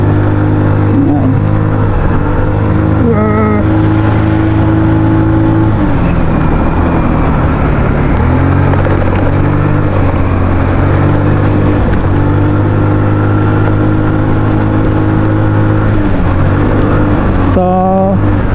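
A Rusi Royal 125 motorcycle engine revs loudly on the Halsema Highway, its droning pitch rising and dropping through several gear changes, close and continuous with heavy rumble.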